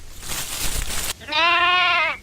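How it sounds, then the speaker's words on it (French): A lamb bleats once, a loud, clear, wavering cry close by that follows a short burst of broadband noise. "c'est un petit agneau tout mignon avec des petites cornes et des petites ailes toutes rouges"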